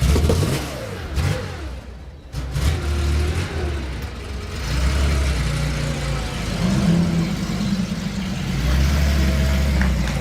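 A Porsche's engine idles with a low, steady rumble, then revs and pulls away, staying fairly loud and close throughout.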